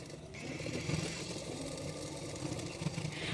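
A sewing machine stitching the side seams of a blouse runs in a quiet, steady whirring rattle with brief bursts of speed, heard faintly and without talking.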